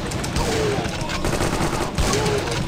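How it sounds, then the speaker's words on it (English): Shotgun blasts from enemy guards in Indiana Jones and the Infernal Machine, dense bursts of gunfire sounding over a busy game soundtrack, with someone talking faintly underneath. "One of these big dudes with the shotgun."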